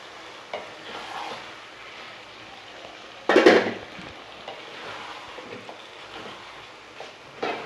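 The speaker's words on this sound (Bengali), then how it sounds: "এবার মাংসটা আমি ভালো করে কষিয়ে নেবো।" Chicken being sautéed in masala spices in a pan for murgh masala, with a quiet background sizzle, occasional stirring scrapes and one louder clatter of the spatula against the pan partway through.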